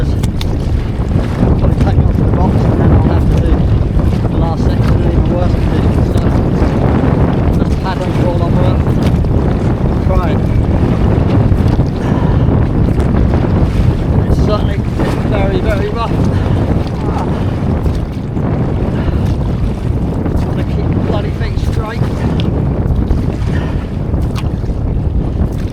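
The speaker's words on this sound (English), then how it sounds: "the waves just keep smacking the back of the canoe and trying to turn me all the time" Wind-driven waves slap steadily against the stern of a canoe on a stormy lake, a continuous loud rush of water and wind buffeting the microphone throughout, with no break in the churning.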